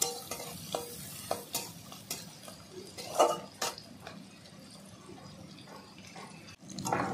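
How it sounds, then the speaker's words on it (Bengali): Chopped onion frying in a pan for pumpkin-leaf greens, a steady close sizzle with repeated scraping stirs and light clinks of a utensil against the pan. "পেঁয়াজটাকে কুচি কুচি করে নিয়েছি, তার সঙ্গে একটু লাল করে ভেজে নেব।"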